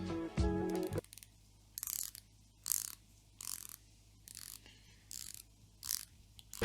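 Short bursts of ratcheting clicks repeat as the bezel of a bronze automatic dive watch is turned, about eight crisp, close clicking runs with brief pauses between them.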